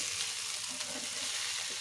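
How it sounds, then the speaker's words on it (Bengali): A short stretch of food frying in a pan until light brown, giving a steady, fairly quiet sizzle throughout with faint stirring noises and no voices. "হালকা ব্রাউন কালার করে ভেজে নেব বন্ধুরা, বেশি কড়া ভাজা যাবে না"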